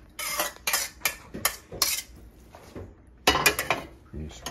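Drained sauerkraut goes into a pan of pork chops, with several sharp clattering scrapes and metallic clinks of a utensil against the pan, and a person talking between them.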